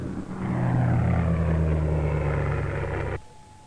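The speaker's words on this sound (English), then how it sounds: "Now the aircraft is almost overhead." Propeller aircraft droning overhead, a steady loud engine hum that swells in and holds before cutting off abruptly near the end.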